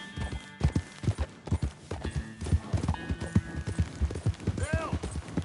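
Steady galloping hoofbeats from a horse ridden in Red Dead Redemption II, close and rhythmic, with a short whinny near the end and a voice speaking over part of it.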